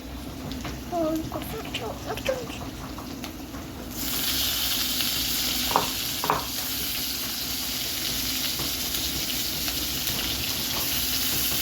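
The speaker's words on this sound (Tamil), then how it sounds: "இப்போ வெங்காயம் வதங்கிடுச்சு மூணு சின்ன சைஸ் தக்காளி வெட்டி போட்டுக்கலாம்" Onions and tomatoes sautéing in a pan for a fish curry, a steady sizzle that swells noticeably louder partway through, with a couple of soft stirring scrapes near the middle.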